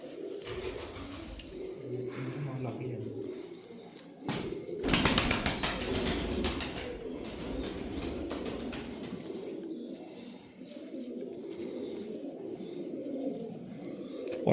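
Old pigeons coo softly in low rolling calls, and a sudden burst of wing flapping comes partway through before the cooing resumes, close and with no voices.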